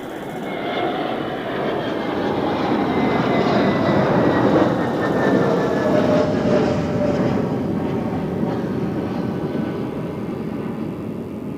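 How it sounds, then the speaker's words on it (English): Jet roar from an Airbus A321neo airliner arriving from Mallorca at Zurich Airport swells in from quieter ambience, then holds as a loud, steady rumble that trails off slightly at the end. "First, the A321neo from Mallorca."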